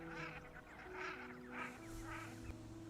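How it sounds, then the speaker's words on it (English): Greylag geese honk repeatedly in a loose rhythm of four or five calls, fairly close, over a steady low hum of background noise. "The grey-lag geese here weren't as territorial as the others I'd seen earlier"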